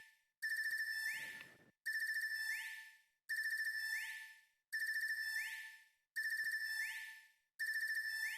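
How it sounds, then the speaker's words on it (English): A phone ringtone from the video game Trails of Cold Steel III rings six times in a steady repeating pattern, each ring loud, clear and close, with brief gaps between rings and no talking. "You need to get a new ringtone."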